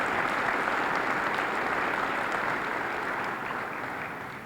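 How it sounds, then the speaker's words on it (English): Steady applause from a large crowd, loud and continuous, gradually tapering off toward the end. "Let's give them a round of applause."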